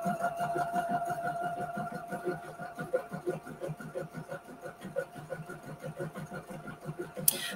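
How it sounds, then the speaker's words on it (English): An embroidery sewing machine stitching, with a fast, steady mechanical rhythm of needle strokes and motor hum at moderate volume, running on continuously. "and then resume stitching"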